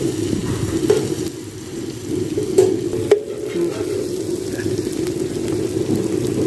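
Garlic and ginger paste fries and sizzles in mustard oil, a steady bright hiss with occasional clinks of a spoon stirring the pan, close and continuous with no voices.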